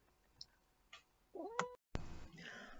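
A cat meows and complains after being scooped up, with several short, near cries rising and falling, and a burst of rustling handling noise at the end.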